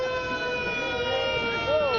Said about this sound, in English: You can see the fire engine especially making a lot of noise here.